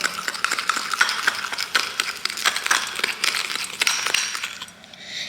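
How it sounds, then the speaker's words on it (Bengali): A spoon scrapes and clinks against a bowl while stirring a homemade Colgate toothpaste remedy paste, producing steady, close, rhythmic metallic taps and scrapes without talk. "এই কলগেট তিনটেকে সুন্দর করে মেশাতে মেশাতে দেখবেন একদম ক্রিমের মতো হয়ে যাবে"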